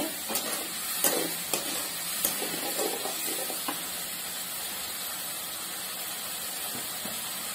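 Chopped garlic and ginger are stirred as they fry in a pan, making a steady bright sizzle with scattered scraping clicks from the spoon, close and moderately loud.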